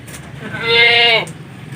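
A male goat at home, one of two castrated two-tooth young pink-colored bucks, lets out a single drawn-out bleat lasting about half a second, loud and close over low background noise.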